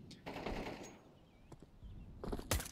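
Counter-Strike 2 gunfire during a competitive match, a quick burst of rapid automatic shots followed by a lull, then another sharp cluster of shots near the end, fairly close and loud with no voices.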